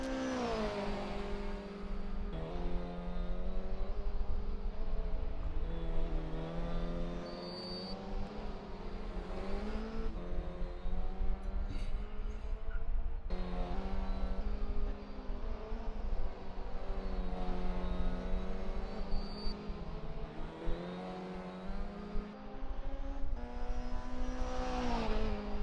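Race cars lapping Daytona in a sim racing video game, a steady loud engine drone with shifting pitch as cars run close together, continuous throughout with no talk.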